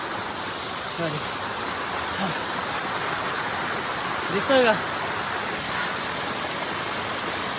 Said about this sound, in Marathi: मस्त धबधबा लागलाय